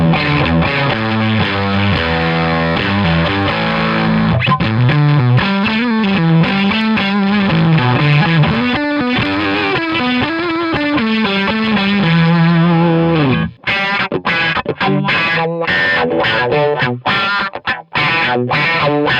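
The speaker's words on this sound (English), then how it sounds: "a few that were popular were Fuzz and the wah pedal. Let's hear how they sound into the Plexi." Electric guitar through fuzz and wah pedals into a Plexi amp plays continuous distorted riffs with sweeping filtered tone, ending in choppy staccato bursts and brief gaps.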